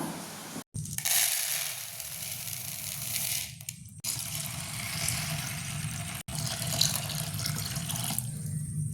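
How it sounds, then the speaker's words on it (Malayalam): Plain, unheated water pours steadily into a bowl, splashing and rushing with a few short breaks in the flow. "അത് മുങ്ങി നിൽക്കാൻ വേണ്ടിയിട്ട് പാകത്തിനുള്ള വെള്ളം കൂടി ഒഴിച്ചെടുക്കുക"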